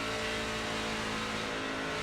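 Race truck engine in a racing video game, heard on a Michigan oval through turns 3 and 4 as the driver lifts off the throttle for pit road entry; a steady, loud, continuous engine drone with no talk over it.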